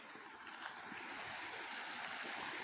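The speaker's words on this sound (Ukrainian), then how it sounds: "Річка гарненька, така чистенька, впадає сюди." A small clear river flows into a Black Sea estuary, giving a steady, soft rushing and trickling wash of water with no voices.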